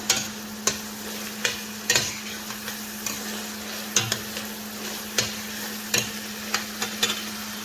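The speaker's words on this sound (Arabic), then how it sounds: "هلا رح شوحهم كلهم" Small deseeded peppers and carrots sauté in a frying pan, with a soft steady sizzle under a string of sharp utensil scrapes and clacks against the pan, roughly one every half second.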